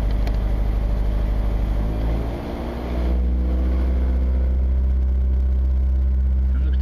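A car engine idles steadily during an EEC-IV cylinder balance test, a loud, even low hum that sags briefly in the middle as one cylinder drops out, then settles back to its steady drone.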